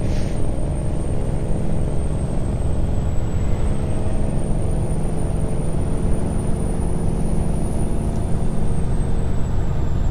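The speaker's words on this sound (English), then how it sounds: "look at that sound of that truck" Steady, loud truck engine drone in American Truck Simulator, hauling a double trailer, with a constant low rumble and a thin high whine running throughout and no clear brake hiss.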